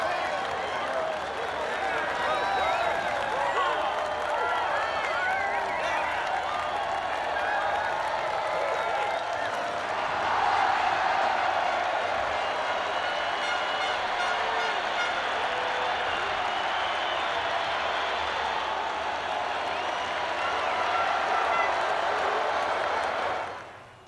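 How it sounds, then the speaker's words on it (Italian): Teams and fans applaud in the MotoGP 20 racing game, a sustained wash of clapping and crowd noise that holds steady for the whole stretch before dropping away at the end. "Gli applausi di squadre e tifosi sono certamente meritatissimi."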